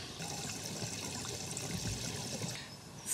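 A garden hose pours water into a camper's tank at a campsite, a steady splashing and trickling flow that runs continuously and fades slightly near the end.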